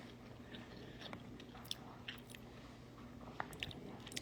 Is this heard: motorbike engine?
no